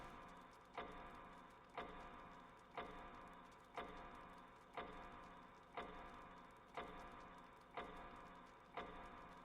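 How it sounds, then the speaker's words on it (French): A steady clock tick sounds in the background of the Resident Evil 1 clock puzzle, sharp and evenly spaced at about one per second, ten ticks in all, over a soft ambient hum with no talk. "le bruit de l'horloge en fond, elle devient insupportable"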